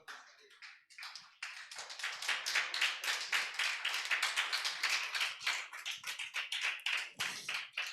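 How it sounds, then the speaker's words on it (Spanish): A church congregation claps together during a Sunday service, a dense run of sharp hand claps building quickly and holding loud and steady for several seconds, then tapering slightly. "Un aplauso para Cristo"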